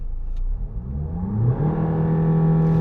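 Range Rover Evoque engine revving steadily upward, loud and close, a smooth rising whine climbing in pitch over a few seconds with no talk.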